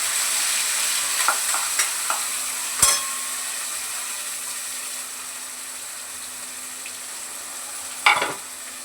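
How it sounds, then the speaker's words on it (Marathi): Ground masala paste sautéing in a pan: a steady, hissing sizzle with a few light scrapes and two sharper clinks of a spatula against the pan, close and continuous, with no talking. "आता पहिले हे वाटण थोडंसं परतून घेते"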